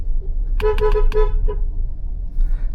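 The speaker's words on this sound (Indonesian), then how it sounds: "Tuh kan, gue udah klaks." Several short honks from a Mazda CX-30 horn, four quick blasts followed by a fainter fifth, sounding close over a low steady engine and road rumble while driving through a narrow street.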